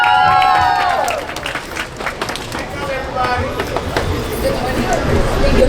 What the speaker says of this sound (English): Hey, give him a round of applause.